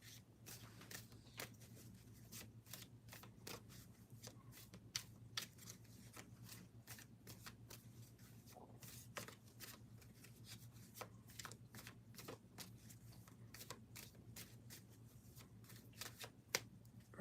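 Tarot cards shuffled continuously before one is drawn, a steady run of quick, crisp riffling flicks close by, fairly quiet and without talk.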